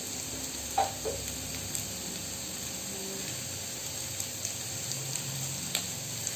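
Onions sautéing with salt in a pan for pork vindaloo, a faint steady sizzle with a few light clicks and scrapes of stirring, close by and quiet, with no talk.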